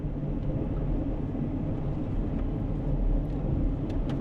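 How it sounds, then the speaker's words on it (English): A pickup truck fitted with a Boss DXT stainless vee plow works a snowy driveway, giving off a steady low engine rumble close by that stays even throughout with no voices. "And this is where this new truck comes in handy."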